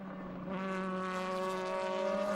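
An Audi DTM touring car driven by Ekström at Donington Park in 2002 holds a steady, loud high-revving engine drone with strong harmonic whine, rising slightly as it passes close by.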